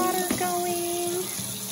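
Hot water runs from a kitchen tap into a small plastic container as a steady, close rushing stream that carries on for the whole stretch with no talk.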